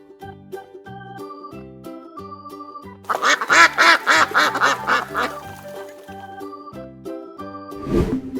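A duck gives a rapid run of loud, nasal quacks over cheerful, bouncy music, with a short jingle or whoosh at the end.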